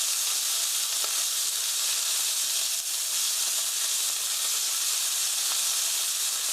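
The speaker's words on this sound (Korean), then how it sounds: "이렇게 해서 고기가 하얗게 될 때까지 볶아주세요" Meat and vegetables stir-frying in a pan for a mushroom japchae dish, a loud continuous sizzling hiss with faint occasional clicks of stirring, close and without talk.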